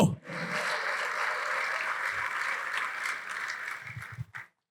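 A church congregation claps together in sustained, dense applause during a pastor's sermon, steady and loud for about four seconds before cutting off abruptly.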